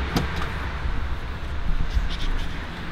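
Someone opens the hood of a BMW X3M Competition; a sharp latch click comes near the start, then a low rumble and a second clunk as the hood is lifted, up close.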